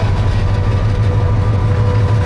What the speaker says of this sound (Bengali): এই মাত্র চলে গেল দেয়ানগঞ্জ কমিউটার ট্রেন